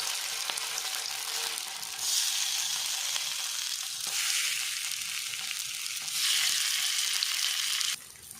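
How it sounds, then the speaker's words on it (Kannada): Pathrode pieces fry in hot coconut oil, giving a loud, continuous sizzle that swells in bursts as pieces are added or moved, close by and alone. "ಎಣ್ಣೆ ಬೆಚ್ಚ ಅನ್ನಗ ಒಂಜೊಂಜೆ ಪೀಸ್ ಪತ್ರೊಡ್ಡೆದ ಪಾಡ್ದು ಫ್ರೈ ಮಲ್ದೆ ತೊನ್ಗ ತುಲೆ"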